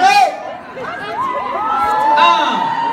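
A theatre crowd at a film premiere in Strasbourg shouts and cheers loudly, an enthusiastic mass of voices with whoops rising near the end.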